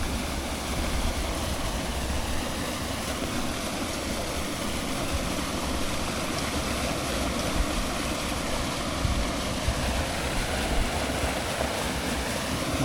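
A river flows behind a house in a deserted village among wide rice fields, a steady, loud rushing of water that continues evenly throughout.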